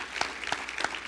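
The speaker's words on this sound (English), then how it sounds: "And so y'all give Mrs. Revels a round of applause." At a STEM accelerator launch event with a governor speaking, a few faint, evenly spaced hand claps sound in quick succession, soft and somewhat distant with no voices over them.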